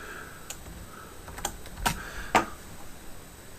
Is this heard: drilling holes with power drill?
no